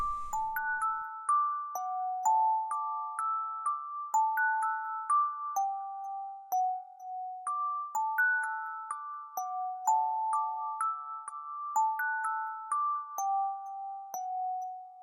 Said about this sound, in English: It's a bell. It's just called Glass